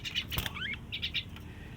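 A pet common myna chirps softly at close range: a few quick, bright calls and a rising whistle-like note, with short pauses between them in a quiet room.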